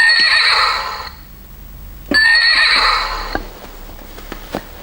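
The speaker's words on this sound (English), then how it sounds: "this is white zebra with black strips" A toy zebra gives two loud whinnying neighs, the first lasting about a second and the second starting after a short pause, followed by a few soft clicks and taps.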